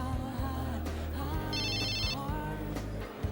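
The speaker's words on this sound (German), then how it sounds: "das ist ein Anruf aus den USA" A telephone rings for an incoming call from the USA, its electronic ringtone trilling repeatedly and steadily at close range over a low hum, with no talking.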